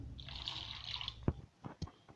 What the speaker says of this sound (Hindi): अब 4 कप पानी डालेंगे इसमें